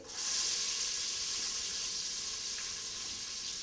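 Cashews and onion fry in hot oil for jeera rice, giving a loud, steady hiss that starts sharply and holds evenly to the end.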